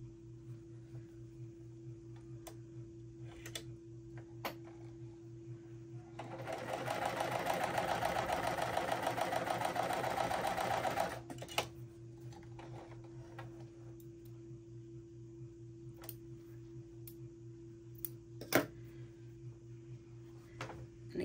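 A sewing machine stitches pieces of a cotton quilt block, running in one steady, even whir for about four seconds mid-clip, with a quiet room hum before and after.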